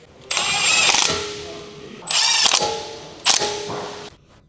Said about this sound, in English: Using the large 13mm long socket with the large electric impact wrench, tighten the caliper retaining bolts.